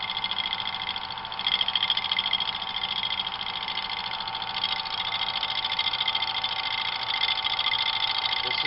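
A wood lathe turns a briar wood tobacco pipe blank as the corners are knocked off, giving a steady, loud motor whir with rhythmic cutting chatter that runs continuously throughout.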